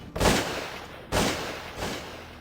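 Shotgun fire on a Nebraska upland bird hunt: three sharp outdoor blasts about a second apart, the first two loudest and the last slightly softer, each with a short fading tail.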